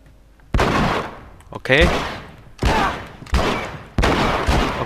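Gunfire from the video game The Last of Us: four or five loud, booming shots spaced roughly a second apart, each with a decaying tail. Someone speaks briefly between them.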